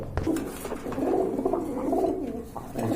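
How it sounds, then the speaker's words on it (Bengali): A pair of teddy pigeons coos in continuous, throaty, rolling calls close by, with faint soft rustling underneath. "এক জোড়া টেডি কবুতর আছে মাসাল্লাহ খুবই সুন্দর"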